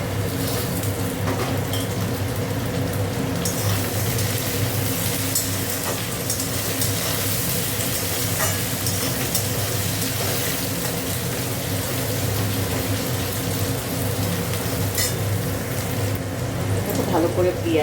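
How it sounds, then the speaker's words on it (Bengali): Onion and tomato fry in a pan for a prawn curry, a steady crackling sizzle running continuously and fairly loud, with kitchen clatter and background voices mixed in. "ভালো করে পেঁয়াজ আর টমেটোটাকে ভেজে নিয়েছি।"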